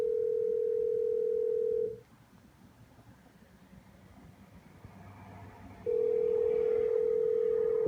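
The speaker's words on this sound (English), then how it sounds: "precise ringback" Precise ringback tone from a telephone switch tone-plant chip: a loud, clean electronic tone held about two seconds, a four-second silent gap, then the tone returning in a repeating ring cadence.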